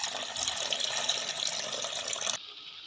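About 1.25 kg of milk pouring steadily into a pot, a close, continuous splashing stream that stops abruptly near the end.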